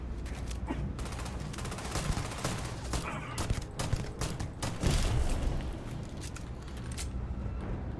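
Gunfire in the video game Starfield, dense bursts of rapid shots and booming impacts in a sustained firefight, loud and continuous with brief lulls between volleys.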